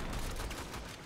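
Prisma Angstrum weapon in Warframe firing, heard as a dense, continuous roar of explosions and gunfire that stays loud and close for the whole short moment, with no voice.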